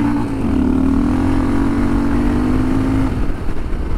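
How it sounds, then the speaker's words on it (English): A Kawasaki KLR 650 motorcycle riding onto gravel revs up to a steady, held drone against its rev limiter, loud and close amid wind rush, then eases off; no one speaks. "Hitting a bit of a limiter there."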